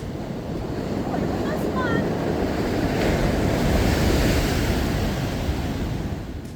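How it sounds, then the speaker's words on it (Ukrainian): Ocean waves wash steadily onto a Madeira shore in a constant roar, with wind rushing across the microphone. "шум хвиль робив цей вечір неспішним і розслабленим"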